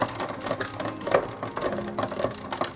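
A GoCut embossing machine is cranked by hand to push plates through, making a rapid run of close mechanical clicks and rattling whirs at moderate volume, with no one speaking.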